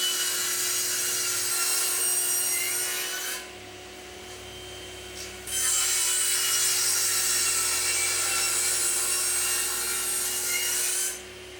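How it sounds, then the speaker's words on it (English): A jigsaw cuts wooden scaffold board legs to length, the rasping saw running close and loud in two long bursts separated by a short pause, with no talking. "First, I'm just going to use the jigsaw to roughly cut a couple of legs to length."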